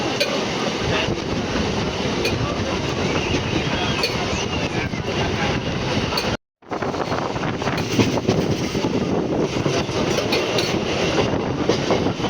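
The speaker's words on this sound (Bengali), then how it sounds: "আর ট্রেনে উঠে গেছি আমরা।" Passenger train in India rolling steadily from inside a carriage, a dense continuous rumble with clickety-clack of wheels on the rails, broken by a brief silent cut midway before the running noise resumes.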